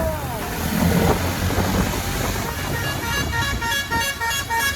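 A horn honks on a modified motorcycle during a night ride from Mumbai to Lonavala, a few short toots over loud road and engine rumble.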